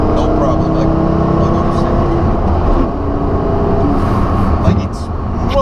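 A Porsche Carrera GT sits idling with a steady low engine drone running throughout, loud and close, while people talk over it.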